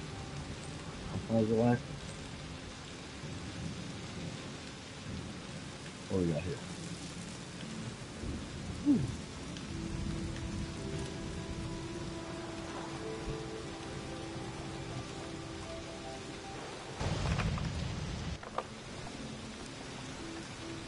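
Rain with a little thunder in the video game Season: A Letter to the Future, a steady wash of rainfall with a few low rumbles, running under intermittent talk from a player.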